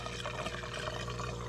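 A 3D-printed aquaponics aerator pushes air into water, making a constant soft bubbling and trickling wash that stays close and even with no pauses.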